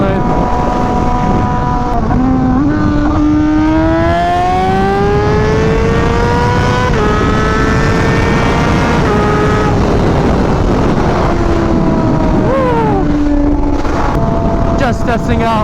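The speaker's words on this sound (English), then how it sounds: "the new tune on the bike with the new exhaust and everything" A Honda Fireblade RRR SP motorcycle fitted with a new exhaust and fresh tune is ridden hard, its engine note climbing and dropping through repeated rising surges over constant, loud wind rush.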